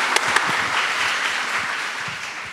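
Audience applause at a live talk event on stage, a steady dense wash of many hands clapping filling the room throughout, with no talk over it.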